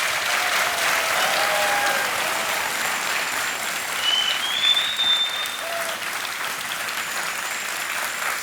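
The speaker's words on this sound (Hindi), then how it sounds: "तालियां बजनी चाहिए जोर से" A studio audience on a televised quiz show breaks into loud, sustained applause, dense clapping that holds steady for several seconds with faint musical tones running underneath.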